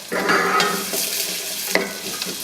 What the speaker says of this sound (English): So I'm just going to caramelise them a bit first in there.